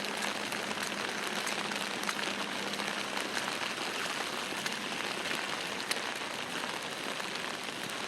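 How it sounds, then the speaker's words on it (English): Constant moderate rain falls over a flooded job site with a retention pond, a dense, even hiss with scattered nearby drops and no voices. "This is a constant moderate rain."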